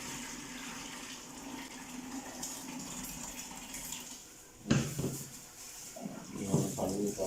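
Soaking water poured off swollen wheat grain: a steady, close rush of running water for several seconds, then a sudden louder splash followed by gurgling pours and splashes.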